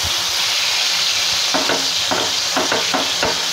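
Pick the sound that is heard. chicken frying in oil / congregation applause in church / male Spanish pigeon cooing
chicken frying in oil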